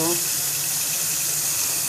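Hot water pours off boiled saltfish as it drains into a sink, a steady close hiss of gushing liquid over the short stretch.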